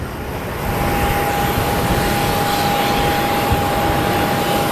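A loud, steady roar of military tanker jet engines at Phoenix Sky Harbor Airport rumbles continuously close by, with a thin high whine running through it and wind noise underneath.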